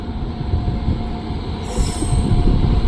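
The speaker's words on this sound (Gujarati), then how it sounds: "જો મિત્રો, આપણી ટ્રેન આવી ગઈ છે" A Bhavnagar–Veraval passenger train pulls into a station, its rumbling wheels loud and close with a high metallic squeal rising partway through, and no voices over it.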